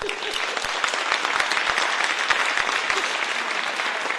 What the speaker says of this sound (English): let's give our applause